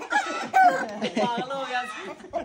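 A white rooster crows and clucks nearby in a short series of harsh, broken calls with uneven pauses, fairly loud and close against a quiet background.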